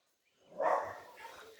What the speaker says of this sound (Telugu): ఎన్ని కుక్కలు ఉన్నాయి అక్కడ